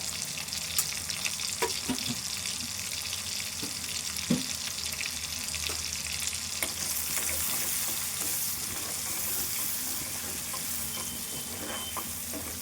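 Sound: onion and garlic frying in pan

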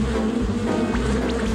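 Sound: buzzing bees

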